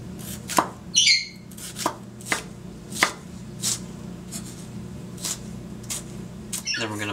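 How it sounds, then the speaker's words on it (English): A knife finely dices red peppers on a cutting board for a vegan ceviche, giving a run of sharp, separate chopping taps at an uneven pace, close and moderately loud. "Then we're going to take our red peppers and we're going to dice them finely."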